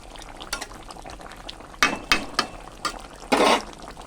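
Potatoes fry with koi fish in oil in a pan, making irregular bursts of crackling sizzle and spatter, some louder pops standing out over a quieter bubbling bed.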